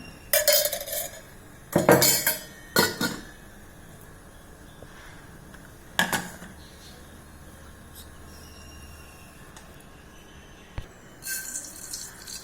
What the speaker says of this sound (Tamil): அடுப்பில் கடாய் போட்டு எண்ணெய் ஊற்றிக்கணும்.